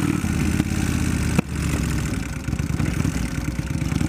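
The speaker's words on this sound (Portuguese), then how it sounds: "tá com ronco delicioso essa moto" Kawasaki Vulcan 1500 motorcycle engine rumbling steadily while riding, a loud, continuous low throbbing with a brief dip midway.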